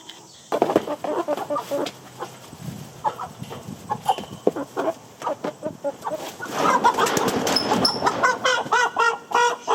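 Several chickens cluck and squawk nearby in a busy, overlapping flock as they are taken out of a chicken tractor, the calls growing denser and louder toward the end.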